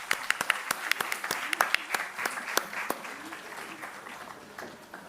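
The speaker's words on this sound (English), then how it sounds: "Let's give them a huge round of applause." Audience at an HR summit and awards event applauds its panelists with sharp, distinct claps over a soft crowd wash, fairly faint and gradually tapering off over several seconds.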